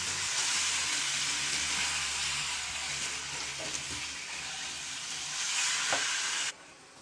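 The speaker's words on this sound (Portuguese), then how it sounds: "Vamos misturar bem." Meat sizzling steadily in a pan with chimichurri for risotto, stirred with occasional scraping clinks, close and moderately loud, then the sizzle drops abruptly near the end; no talking.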